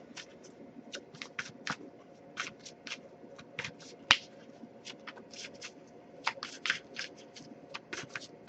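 Oracle cards are shuffled by hand in a quiet room, giving repeated crisp riffling snaps in irregular bursts, close and fairly soft, with no voices.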